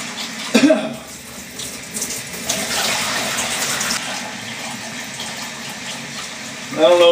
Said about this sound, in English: I'm going to do a couple rinses with water.